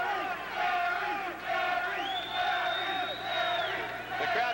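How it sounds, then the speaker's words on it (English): Wrestling arena crowd at ringside chanting in steady rhythmic swells, loud and continuous with a whistle rising over the top midway. "The crowd takes up a chant."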